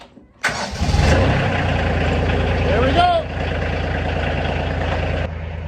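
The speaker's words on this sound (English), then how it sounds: "I had to pull myself down into the seat to get the tractor to start" A tractor engine cranks and catches with a loud roar, then drops into a steady rumbling idle; someone speaks briefly over it.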